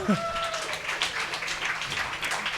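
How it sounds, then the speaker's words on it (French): Audience applause and cheering at a French-language comedy show, a dense wash of clapping lasting throughout, with a voice briefly heard near the start. "on l'applaudit bien fort"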